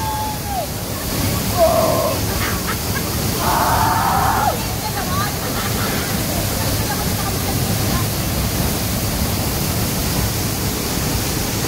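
Tuwasan Falls roars as a loud, steady, broadband wash of falling water, with brief faint voices in the first few seconds.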